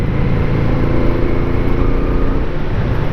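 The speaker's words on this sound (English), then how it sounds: "That's a very good V-twin. And this is a 500cc." A 500cc Honda Ascot V-twin motorcycle with shaft drive is being ridden in winter, its engine giving a steady, loud, close rumble mixed with rushing wind noise throughout.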